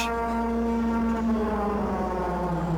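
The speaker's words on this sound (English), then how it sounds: "Is that the siren?" A siren in the Wind Waker video game sounds as a steady, sustained harmonic wail, loud and continuous throughout with no talking over it.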